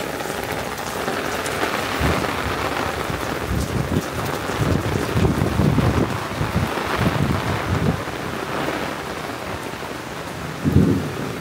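Rainwater flows away outdoors after leaves and shampoo clogging the drain are cleared, giving a continuous rushing, splashing wash with swelling surges and a brief louder burst near the end.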